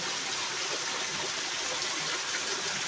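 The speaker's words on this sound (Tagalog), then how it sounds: "So hinay lang ang daloy sa tubig kay medyo di man kayo kusog ang uwan." Gentle flow of water at Balingasaw Falls, a waterfall in Merida, Leyte, producing a steady, even rushing hiss that holds constant throughout with no voices.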